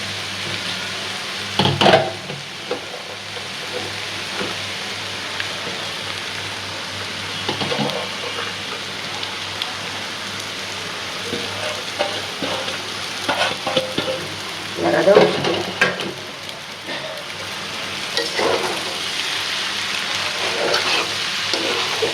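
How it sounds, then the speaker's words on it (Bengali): Noodles are stir-fried with vegetables in a pan, giving a continuous sizzle broken by repeated scraping and stirring clatters from the spatula, heard close and alone for the whole stretch. "এখন আমরা নুডলসটি দিয়ে দেব"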